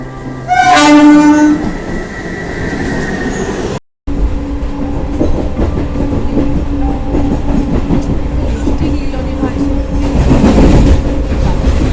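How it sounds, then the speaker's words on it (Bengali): A Kharagpur Asansol Express train arrives at a station platform: a loud horn blast opens, then a steady rumble with clattering wheels and faint squeals. A station announcement voice is heard briefly. "খড়গপুর আসানসোল এক্সপ্রেস 2 নম্বর প্ল্যাটফর্মে আসছে"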